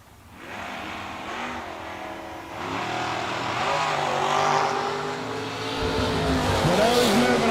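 Drag race cars launch and roar down the track at a Six Shooter Showdown event, loud engines climbing in pitch as they accelerate, heard alone at some distance.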